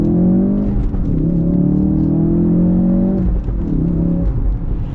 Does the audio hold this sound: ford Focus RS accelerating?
yes